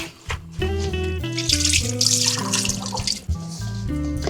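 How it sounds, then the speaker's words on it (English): Tap water runs and splashes as beautyberry leaves are rinsed beneath it, a close, uneven trickle with patters and drips, no one speaking. "I'm just going to rinse them off very briefly"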